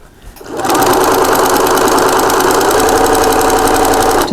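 A sewing machine stitches two pieces of fabric for a wallet with a quarter-inch seam. After a brief start, it runs as a loud, steady, continuous whir close by.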